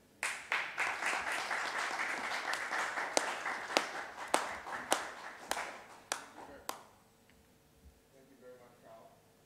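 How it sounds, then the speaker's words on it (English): Audience applause following a speech at the launch of a G-Money campaign, a dense round of clapping with sharper individual claps, tapering off over several seconds into near quiet. "Another round of applause"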